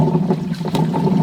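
A worn-bearing DIY micro hydro turbine rattles loosely with play, a steady low churning hum with faint irregular knocks and splashing water, close and continuous.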